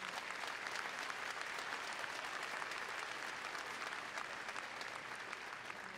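Large commencement crowd giving sustained applause at an undergraduate graduation ceremony, a dense, even wash of clapping heard from a distance and continuing steadily throughout.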